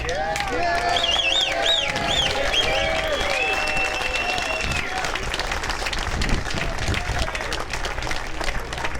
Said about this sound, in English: Was that applause for me or for Dickie?